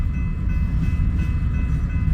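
A long freight train at a grain co-op loop track gives off a loud, continuous low rumble and rolling roar with no breaks, heard from nearby.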